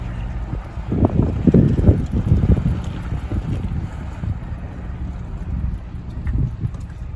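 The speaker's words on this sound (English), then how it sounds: "Wind has actually dropped a bit for now as well" Gusty wind buffets around a narrowboat on the water, rumbling loud at first and then settling into a steadier, softer rush with occasional swells, with nobody talking.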